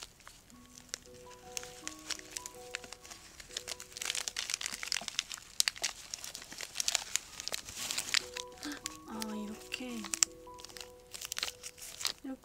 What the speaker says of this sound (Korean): 이렇게 비닐로 애를 휘감아놨네.